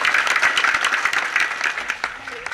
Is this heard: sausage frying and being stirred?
no